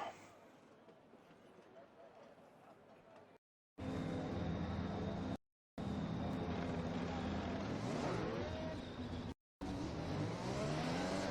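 F1 2021 game cars rolling off on the formation lap at Silverstone, a continuous engine drone with rising and falling revs broken by brief dropouts, heard under a commentator's voice.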